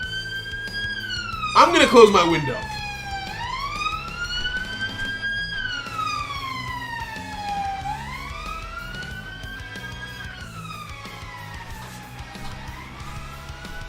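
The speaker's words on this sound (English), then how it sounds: "That was just a regular car that had a siren" A siren on an ordinary car wails outside, its rising and falling tone sweeping up and down repeatedly and fairly loud. A voice speaks briefly over it and a burst of noise comes near the start.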